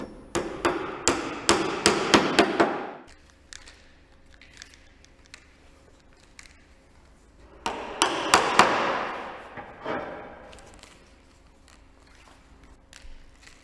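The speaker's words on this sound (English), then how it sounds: "Lay the roll flex strip centrally along the ridge batten and tack into position with corrosion" Hammer blows drive corrosion-resistant nails through a roll flex strip into a roof ridge batten, two quick bursts of sharp, close, rapid strikes separated by a quiet pause.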